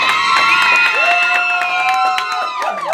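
A crowd at a contest show cheers, shouts and whoops loudly and continuously, with scattered claps and excited voices, while upbeat music with sustained melodic tones plays underneath.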